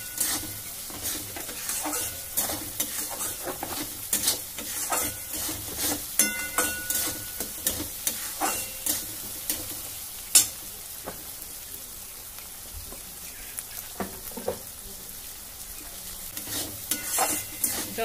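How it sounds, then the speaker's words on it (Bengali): A spice paste for Bengali katla fish kalia sautés in hot oil, a dense continuous crackling sizzle broken by frequent rhythmic scraping strokes of a spoon against the pan, close and fairly loud throughout. "এটা কষাতে থাকবো।"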